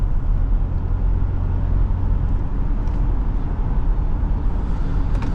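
A 2020 Ford Police Interceptor Utility SUV with the 3.3L engine drives along, a loud steady low road and engine rumble filling the cabin without pause.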